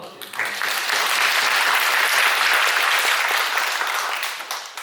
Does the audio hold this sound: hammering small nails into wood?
no